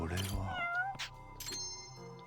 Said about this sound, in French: Il y a un chat qui traîne, je le savais.